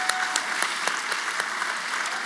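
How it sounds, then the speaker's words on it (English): An audience at a first-generation student graduation celebration claps steadily, a dense burst of applause filling the whole moment. "that's like applause"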